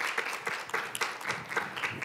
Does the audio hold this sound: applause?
yes